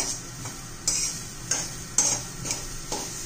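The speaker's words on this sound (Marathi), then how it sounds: "त्यात आपण आता हे ओलं खोबरं घालूया। चांगलं भाजून घेऊया।" Fresh grated coconut is stirred and roasted in a pan over a low flame, giving soft repeated scraping strokes at a steady rhythm over a faint background sizzle, close by with no voices.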